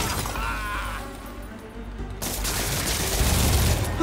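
Rapid minigun fire from an enemy in Marvel's Spider-Man Remastered, bursts of dense rattling shots with a brief lull in the middle, then resuming loud and continuous amid crashing impacts.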